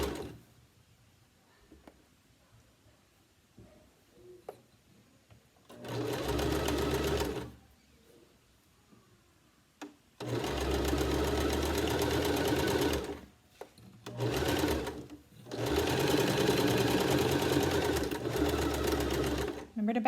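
A sewing machine joins a skirt to a bodice, running close by in several steady bursts of a few seconds each, with quiet handling noises and brief pauses between runs.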